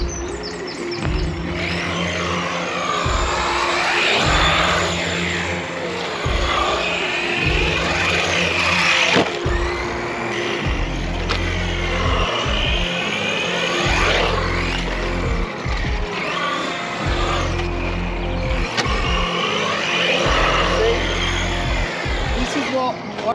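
A Dee RC 200e brushless RC car drives in bursts, its electric motor whining and cutting out in repeated surges close by, with speech over it.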